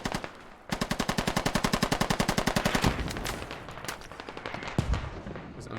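Machine gun fire in a squad shooter game, a fast rhythmic burst of about twenty-five evenly spaced shots, loud and close, followed by scattered trailing shots and a heavier thump near the end.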